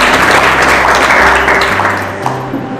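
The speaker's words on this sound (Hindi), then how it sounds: "ताली बजाकर खुदा को महिमा दो" A church congregation claps together in worship, a dense, loud burst of applause filling the room for a few seconds before tapering off slightly.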